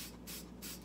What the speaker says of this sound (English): I'm going to take my can and the spray bottle to the sink and just spray the heck out of it.